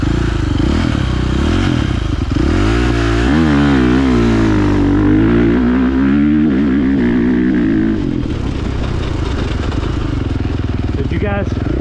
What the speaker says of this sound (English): any hesitation you hear is going to be from the bike, the quick shifter